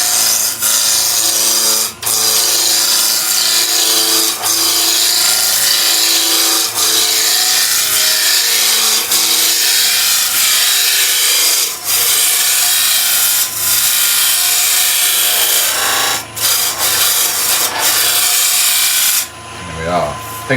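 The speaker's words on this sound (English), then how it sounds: "If you're unsure about a roughing gouge, start nice and low, touch on, lift the handle until you get the shavings" A roughing gouge cuts wood on a lathe while a raised bowl is turned, giving a steady, loud scraping and hissing that runs almost continuously, with brief dips where the tool lifts off the wood.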